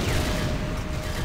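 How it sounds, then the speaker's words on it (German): Gunfire in the video game Command & Conquer: Renegade, a dense continuous rattle of shots and impacts, loud and busy throughout with no talking. "So, wo kommen die letzten Schüsse her?"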